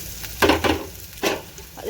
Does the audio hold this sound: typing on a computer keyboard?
no